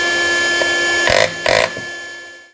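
A small battery-powered hammer runs steadily and close by, used on a stingless bee hive box during a Tetragonula hockingsi transfer, with two louder bursts where it bites harder before winding down at the end.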